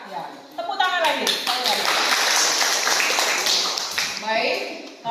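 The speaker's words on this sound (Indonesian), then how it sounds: "Tepuk tangan lagi." A classroom of students claps together in a lesson, a dense burst of applause filling most of the clip, with children's voices mixed in near the start and end.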